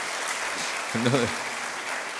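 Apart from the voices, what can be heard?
audience applause for women's leadership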